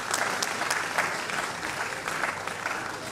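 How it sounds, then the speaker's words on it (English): A conference audience at a science and technology event applauds steadily, a dense wash of clapping from many hands at moderate distance, with no voices over it. "Shall we sustain the applause for the representative of our keynote speaker?"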